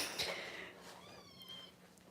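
Young kittens, kept isolated indoors while being dewormed, give a short high meow close by, followed by faint thinner mewing.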